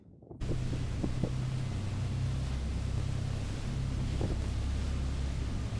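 Steady low engine rumble and rushing wind and water noise aboard a motorboat heading to Ikeshima Island, Japan, with faint knocks and no talking.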